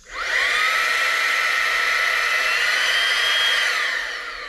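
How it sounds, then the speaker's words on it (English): A small handheld car vacuum motor, part of a Seesii 3-in-1 multifunctional tool, whirs up quickly and runs at a steady high-pitched whine for a few seconds, then starts to wind down, close and loud. "if I just hit this trigger here, you'll hear the vacuum will come on"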